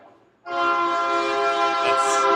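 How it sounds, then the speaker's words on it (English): A train rolls past near a brewery in Tucson, Arizona, its loud sustained horn starting abruptly and holding steady for about two seconds, with no talk over it. "And here we have a train coming."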